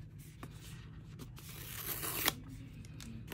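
A brand-new iPhone 14 Pro Max silicone case being unboxed: a steady papery tearing and crinkling of packaging, with a sharper rip near the end, close and moderately quiet, no talking.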